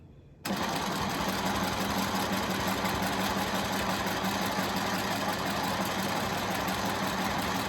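A sewing machine quilting a scrap quilt's outside border along a ruler starts abruptly and runs steadily at a fast, even whirring pace, close and continuous without speech.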